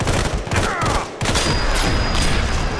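Dense bursts of rapid gunfire from the video game Sniper Fury, loud and continuous, with a brief pause near the middle before the shooting resumes.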